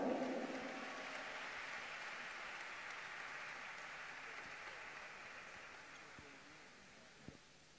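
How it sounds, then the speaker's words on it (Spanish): Audience applause at a national event, a broad steady wash of clapping that is fairly faint and distant, slowly fading across the stretch with a single sharp knock near the end. "¡Fuerte el aplauso!"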